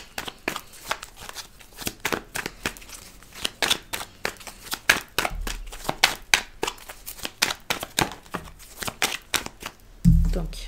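A tarot deck is shuffled by hand, giving a long run of quick, close riffling and flicking card sounds, while someone speaks French over it.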